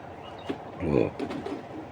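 A pigeon gives a short, low coo close by, a soft rolling call in the middle of a brief moment with faint background noise.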